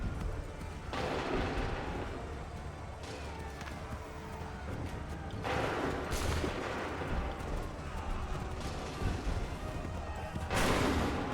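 Musket volleys in Assassin's Creed 3: a continuous din of crackling gunfire and booming reports, with several louder bursts standing out against the battle noise.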